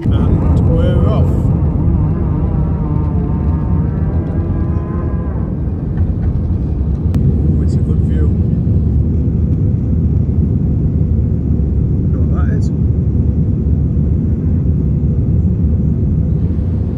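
Inside an airliner cabin on a long-haul flight to Germany, a heavy, steady roar of engines and air noise fills the space during takeoff. Faint voices can be heard beneath the noise.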